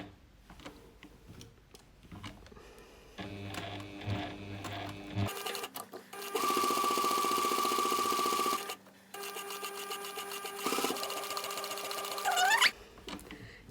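A sewing machine stitches around the curved edges of a zippered sunglasses case, running in bursts of steady mechanical whirring that stop and restart between shorter runs, loud and close.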